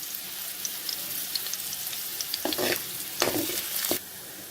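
Chopped ginger and garlic sizzling in a hot pan while being stir-fried, a steady loud frying hiss broken by a few scraping stirs of the utensil, close up and with no voices.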